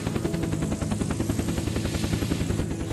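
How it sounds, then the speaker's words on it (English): A helicopter flies in the survival game Unturned, its rotor chopping in a fast, even pulse right up close and loud, steady for the whole stretch with no talk. "me and you are both hanging out the end of a helicopter"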